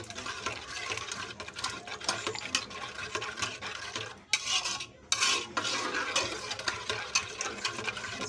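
A spoon stirring and scraping otong soup in a pot, with steady, repetitive strokes and clinks up close and no talking.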